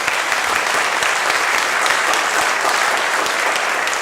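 A large audience applauds loudly and steadily for a chamber ensemble performance, a dense, continuous wash of clapping that holds at full strength throughout with no voices standing out.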